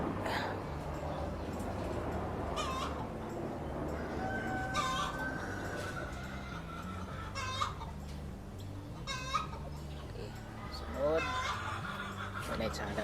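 Gamefowl chickens cluck and a rooster crows amid a busy backyard farmyard, with people talking over the birds at moderate distance.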